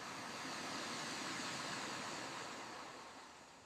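Ocean waves in AI-generated footage: a steady, broad wash of surf noise that swells slightly and fades a little toward the end, with no talk.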